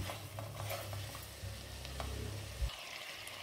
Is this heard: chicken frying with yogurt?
yes